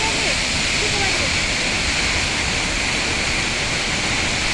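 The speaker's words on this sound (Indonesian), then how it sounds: "Air terjun Songgolangi." Songgolangi waterfall pouring steadily as a loud, continuous broadband roar with no pauses, filling the whole stretch alone.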